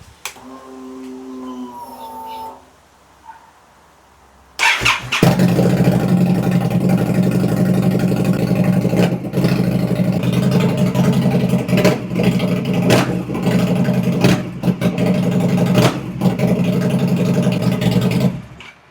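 Indian Scout motorcycle with its airbox removed catches after a brief starter attempt, then idles loud and close with a steady, throaty engine rumble and occasional small blips for the rest of the run.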